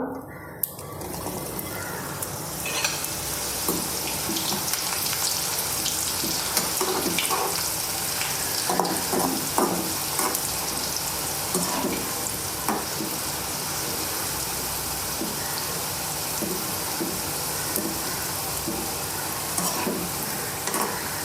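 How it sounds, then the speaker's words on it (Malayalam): Papadams fry in hot oil in a clay pot over a wood-fired hearth, giving a loud, continuous bubbling sizzle with scattered crackles and pops that lasts throughout. "ചട്ടി വെച്ചിട്ടുണ്ട് എണ്ണ ഒഴിച്ചിട്ടുണ്ട് എണ്ണ കാഞ്ഞിട്ടുണ്ട് അപ്പം നമുക്ക് ഈ പപ്പടം അങ്ങോട്ട് ഇട്ട് കൊടുക്കാം"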